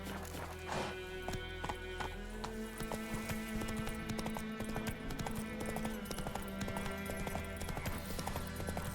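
Steady clip-clop of horse hooves in The Witcher 3 video game, a quick even rhythm of close thuds over a continuous musical hum, with one brief whinny early on.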